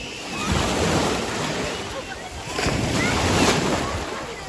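Sea waves wash onto a beach in steady rolling surges with wind buffeting the microphone, loud and close, two swells rising and falling; people talk faintly beneath.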